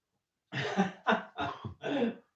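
Repeated coughing, four harsh bursts in quick succession from a person nearby, loud and close with no talk over them.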